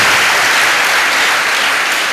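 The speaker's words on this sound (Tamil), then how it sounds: "ஒரு கைதட்டு ஆண்டவருக்கு சத்தமா, சந்தோஷமான கைதட்டு." Loud, joyful applause fills a church congregation, dense continuous clapping from a large crowd throughout with no break.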